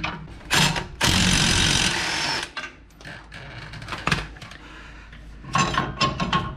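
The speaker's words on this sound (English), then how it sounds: "Old U-bolts out." Tools work on the rear suspension of a pickup truck during a leveling kit install, removing the old U-bolts: loud, close mechanical ratcheting and clattering bursts with short pauses between them and no talking.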